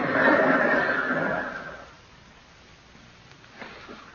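A horse neighs as a sound effect in an old-time radio drama: a loud, drawn-out whinny for about a second and a half that fades away, followed by quiet.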